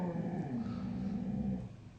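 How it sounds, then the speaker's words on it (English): A dog growls low and close in one continuous rumble lasting about two seconds, easing off slightly at the end. "That's my dog. She wants to party."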